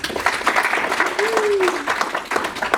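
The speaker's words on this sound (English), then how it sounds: "So let's get one more round of applause." An audience at a white oak basket-making stage event gives a dense, steady round of clapping, with a brief voice heard over the applause.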